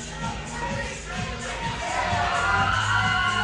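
Wrestling crowd at a Bloodsport event cheering and shouting in a steady, dense roar that swells slightly toward the end, with scattered voices and talk mixed into the noise.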